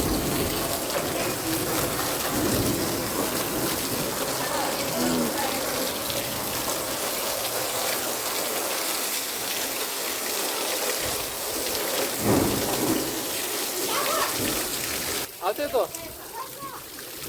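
Heavy rain pours down steadily as a broad, close hiss of falling water, with voices talking over it throughout and a sharper shift in the noise near the end.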